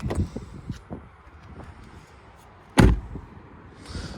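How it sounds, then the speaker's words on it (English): A single solid thump of a 2020 Cadillac XT4 Premium Luxury AWD door shutting, loud and close, preceded and followed by faint handling clicks and rustle. "Sound of the door."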